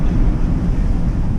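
Heavy, rumbling wind from a storm's back side buffets the microphone aboard a sailboat over a deep wash of churning sea, loud and unbroken throughout.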